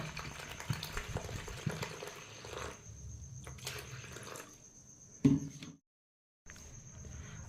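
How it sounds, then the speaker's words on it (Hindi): Water poured from close by into flour in a bowl for roti dough, a soft trickling splash that runs several seconds, ends with a brief louder slosh, then goes silent before faint room noise returns. "तो एबे अटा मापर पानी दवा।"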